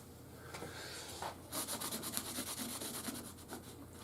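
A small cotton cloth wipes the fretboard of a Gazzbass Falcon Series II bass guitar, giving soft, quick rhythmic rubbing strokes that start after a quiet pause and continue close by, with no talking.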